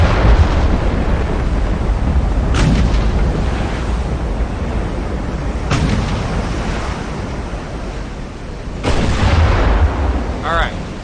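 Naval video game battle: incoming shells strike and burst near a modern battleship, with heavy booming impacts at about 2.5, 5.7 and 9 seconds over a constant roaring rumble of sea and wind.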